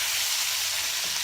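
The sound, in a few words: stirring sizzling chicken tagine in the pan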